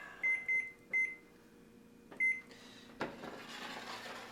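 An oven timer gives several short electronic beeps in quick pairs as it is set in a kitchen, followed by a soft thud and low background rustle.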